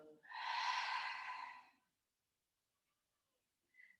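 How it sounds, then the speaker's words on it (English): A long, airy exhale through an open mouth during a calming breathing exercise, close and breathy for about a second and a half, then silence with a faint brief breath at the end. "open mouth and exhale"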